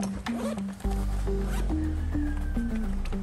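A zipper pulls shut on a stretchy mesh pocket of a KTM Team Erzberg hydration backpack, a close, loud rasping zip with a brief pause before one long continuous pull.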